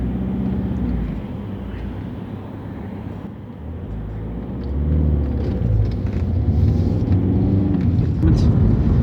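Alfa Romeo GT diesel engine running while driving on bumpy British roads, a steady smooth low rumble from inside the car that swells slightly louder partway through, with no talking.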